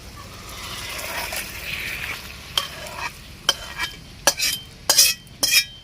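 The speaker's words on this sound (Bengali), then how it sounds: "মাশরুম তরকারিটা আমার হয়ে গেছে, আমি এবার ওর মধ্যে কিছুটা ভাজা মশলা দিয়ে দিব।" A mushroom curry is stirred in a pan after roasted spice mix is added. A low simmering sizzle runs beneath, then a spoon scrapes and clinks against the metal pot in sharp, irregular strokes, close up and with no talk.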